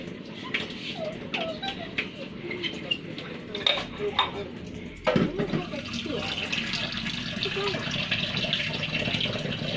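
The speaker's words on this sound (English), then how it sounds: "You really don't know how to wash the dishes, huh?" Dishes washed at home with children helping, giving clinks of plates and cutlery, stirring and running tap water. The clatter is close and irregular and moves into a steadier wash of water, with voices talking in places.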